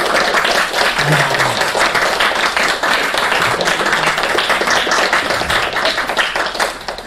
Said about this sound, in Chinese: 我们要给他们大大的鼓掌